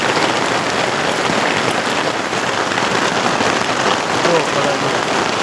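Heavy monsoon rain pours down steadily, a dense, loud, unbroken hiss of drops striking surfaces with no break in intensity.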